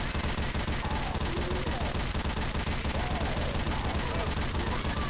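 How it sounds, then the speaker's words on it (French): Heavy machine gun firing in a LEGO zombie video game, a dense, continuous burst of rapid shots that stays loud and unbroken for the whole stretch. "Je me mets à la grosse mitrailleuse."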